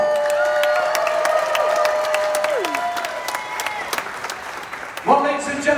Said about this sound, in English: please, a big round of applause for all of the crew members in front of you